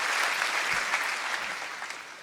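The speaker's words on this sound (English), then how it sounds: "Students are really cheering for Chancellor Merkel" Students cheer and applaud for Chancellor Merkel at Harvard's 2019 commencement, a dense, steady roar of clapping and shouting from a large outdoor crowd that carries through the whole stretch with no one speaking over it.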